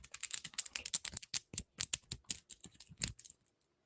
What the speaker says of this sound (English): Just like when women get our nails done, we start doing all this clicking.